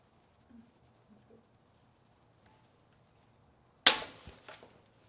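A single sharp click from a Harbor Freight torque wrench during an SR20DET engine rebuild, near and loud, with a small rattle after and quiet surroundings otherwise.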